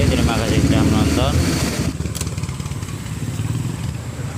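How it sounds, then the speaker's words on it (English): A bored-up 130cc Honda Scoopy scooter engine runs close by at night, a loud, rough, throbbing idle that starts strong and settles into a steadier, quieter chug after a couple of seconds. "Ini motor udah nyala, tinggal kita cek jalan."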